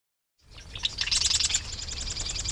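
Shorebirds and gulls call at the Great Salt Lake, a loud, busy chorus of overlapping high chirps and cries that starts abruptly and continues without pause, with no speech.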